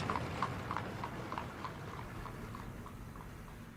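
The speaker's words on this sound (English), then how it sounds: "The final 240 kilometers of his trip were traveled by Ekka, a small one-horse carriage." Hooves of a horse pulling a small one-horse ekka carriage clop in a steady, even rhythm, a moderately close series of light knocks over a low background rumble with no voices.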